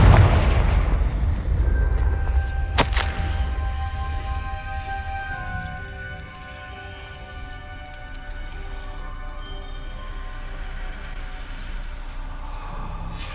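Confringo fire spell blast in Hogwarts Legacy: one sharp booming burst near the start, trailing into a crackling, rumbling rain-like wash with faint tonal hums that fades slightly before holding steady, with no talk.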